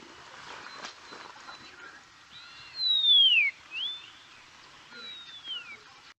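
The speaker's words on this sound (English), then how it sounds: "I'm going to play you the call of the eastern long-billed lark" A clear, long descending whistle from an eastern long-billed lark, loud and close, followed by a softer similar call, over faint background rustle.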